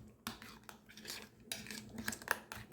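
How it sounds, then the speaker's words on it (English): A utensil clinks and scrapes against a bowl as Big Mac sauce ingredients, including garlic powder, are stirred together, faint irregular taps and scrapes close by with no talk. "we're going to mix this all up"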